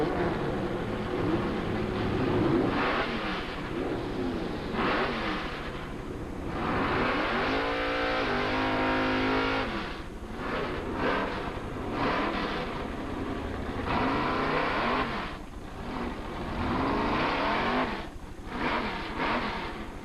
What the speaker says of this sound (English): the little Kawasaki dragster from Edinburgh, Texas